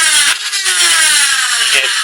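Flywheels whir at speed inside a Nerf AK-47 blaster build, a loud, close electric motor whine with shifting pitch and slight surges as the pusher cycles, lasting about two seconds without talk.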